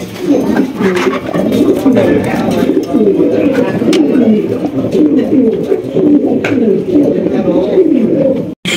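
German White Beauty pigeons on a farm coo in loud, close, overlapping rolling calls that carry on without a break, with someone speaking over them.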